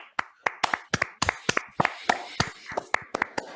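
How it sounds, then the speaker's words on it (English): A few podcast hosts clapping close to the microphone, sharp uneven individual hand claps in a loose irregular rhythm, with quiet background noise between them. "A little round of applause, everyone."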